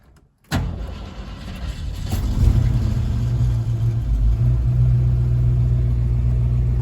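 A 1971 Ford Maverick with a 302 V8 cranks briefly and fires, then settles into a steady, rumbling warm idle that continues loud and close without any speech.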